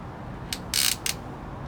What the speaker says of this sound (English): There's another nice little bag, and we've got these nice little ratchets